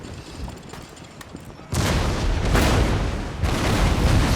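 In Empire Total War, ship cannons fire during a naval boarding fight, with booming broadband volleys rolling in after a quieter rumbling start and staying loud and dense.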